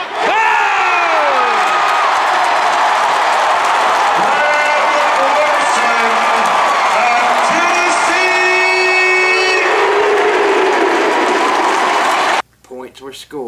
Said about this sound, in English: finally, with a roaring ovation from the crowd